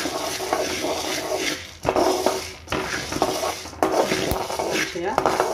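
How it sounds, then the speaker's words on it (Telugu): Sorghum (jowar) grains dry-roast in a pan, giving a steady rough rustle and faint crackle with several sharp knocks and scrapes of a utensil against the pan, close and moderately loud. "జొన్నలు ఇలా చిటపటలాడే వరకు కొంచెం వేయించుకోవాలి."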